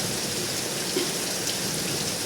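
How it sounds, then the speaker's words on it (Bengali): Heavy rain pours down steadily in Hazaribagh during a flooding downpour, a dense, continuous hiss of drops close by with no breaks and no voices. "দুই থেকে আড়াই ঘন্টা বৃষ্টি হচ্ছে এখন পর্যন্ত"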